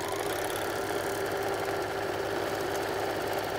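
A sewing machine fitted with three needles stitches a hem, running steadily at a constant speed with a dense mechanical whir and rapid needle chatter, close and continuous throughout with no voice.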